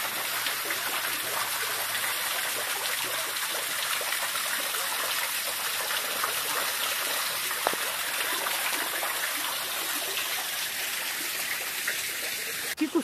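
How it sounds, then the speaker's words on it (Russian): Water runs steadily over small cascades in the Vorontsov Park at Alupka, Crimea, a continuous close rushing and splashing that stays even throughout. "Я очень люблю вот эти все водопадики."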